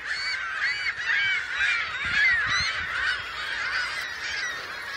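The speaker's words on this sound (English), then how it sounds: "Just look at all the fucking birds." A large flock of geese honks continuously across an open field, a dense overlapping chorus of calls close by and loud throughout, with a few low thumps underneath.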